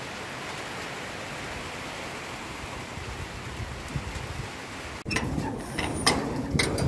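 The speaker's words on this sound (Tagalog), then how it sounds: "Yung ulan, malakas na." Steady, dense rain pouring down during a pigeon race in Virac, Catanduanes, a constant broadband hiss that grows heavier and louder partway through, with sharper spatters on top.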